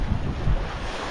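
A Balance 526 sailboat runs downwind on the Atlantic under its jib, with a steady rush of wind and water washing past the hull and no voices.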